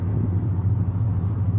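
A heavy, continuous low rumble from a 2002 GMC Sierra engine, loud and steady throughout with no voices.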